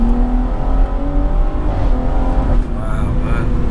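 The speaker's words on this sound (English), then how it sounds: "That exhaust sound is just unreal, you know that?" A 420 bhp JB4-tuned BMW M240i revs hard nearby, its exhaust snarling loudly and continuously with pitch rising and falling, while people talk under the engine noise.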